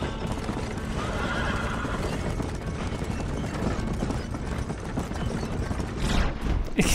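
Horse hooves clip-clopping steadily with a loud neigh in the Western game Red Dead Redemption, mixed with game ambience and a brief flurry of gunfire near the end.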